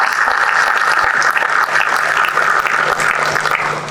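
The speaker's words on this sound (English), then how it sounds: "A round of applause for her." Steady, loud applause from a crowd at an induction ceremony, continuous clapping throughout with no voices standing out.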